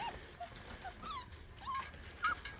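Puppies whimper and yip in short, high, faint cries, scattered close together, with no talking.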